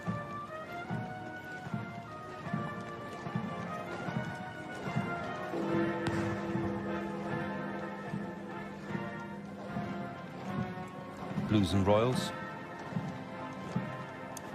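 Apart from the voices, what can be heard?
horses' hooves in state funeral procession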